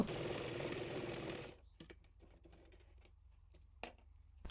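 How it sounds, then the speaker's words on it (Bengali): A sewing machine stitches a kameez sleeve, a fast, even mechanical whir running close for about a second and a half, then stopping and leaving a few faint clicks and taps. "একইভাবে অপর হাতাটিও সেলাই করে নেব।"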